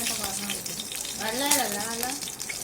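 Cumin seeds crackle and fry in hot ghee in a pan for spiced rice, a steady close sizzle with a faint voice in the background.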